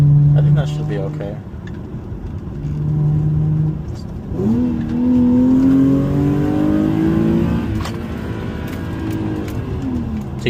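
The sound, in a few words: Infiniti VHR engine accelerating in third gear on UPREV race map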